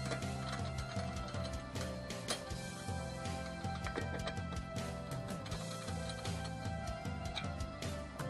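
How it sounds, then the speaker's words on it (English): Lug wrench turning to loosen car wheel lug nuts, a dense ratcheting, clicking mechanical noise that runs continuously and fairly loud throughout, with no talking. "now we're just going to take our lug wrench and twist it like that"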